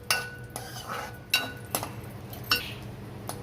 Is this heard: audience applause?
no